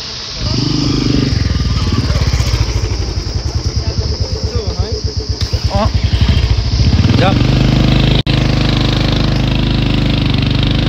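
Motorcycle engine running and revving near the mic on a mountain road in Mustang, Nepal, a loud steady throb with rhythmic pulsing that rises briefly, with a voice over it.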